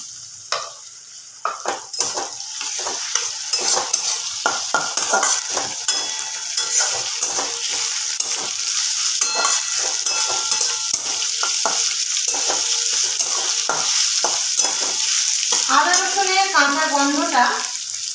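Ginger garlic paste fries with onions in a pan for a chicken dish, producing a strong, continuous sizzle broken by rhythmic scraping stirs and utensil clinks, with a brief voice-like sound near the end.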